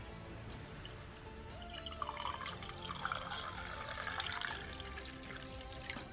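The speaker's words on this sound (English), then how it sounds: "So I'm just gonna pour my coffee from my coffee mug." Coffee pours from a mug into a cup: a soft, continuous liquid trickle and gurgle, fairly faint and close, with no talking over it.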